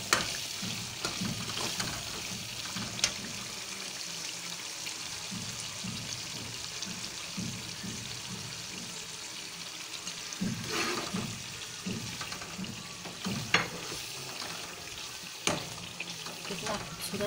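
Masala for chana dal frying in a pan over a low flame, a continuous soft sizzle and bubbling with intermittent scraping and knocks of a spoon, close by and without speech.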